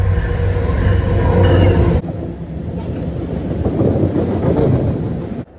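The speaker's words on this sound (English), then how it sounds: "There's a train coming." A loud train rumbling close by, with heavy low noise and wind buffeting that shifts abruptly partway through and keeps roaring steadily.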